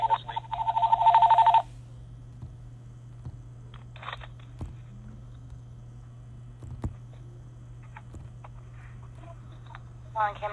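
A telephone rings in the background in a short, loud burst lasting about a second and a half, then stops, leaving a quiet room with a steady low hum and scattered faint clicks.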